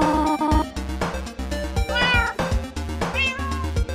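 Several meow imitations from a human voice, rising and falling, laid over continuous background music.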